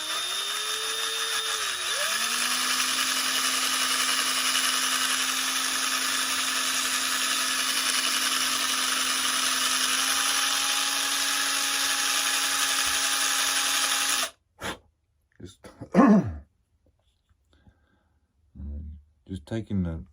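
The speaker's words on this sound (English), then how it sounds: "Just taking the drill bit blade and just kind of moving around there." A power drill with its bit grinding at a Top Flite C-47 model plane whines steadily and loudly for most of the clip, its pitch dipping briefly early on, then cuts off, followed by scattered knocks and handling noises.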